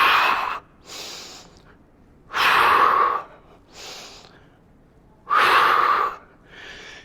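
Heavy exercise breathing during an abs and core dumbbell workout at a gym, with three strong breathy inhale-exhale bursts alternating with softer breaths, close and loud, no talking.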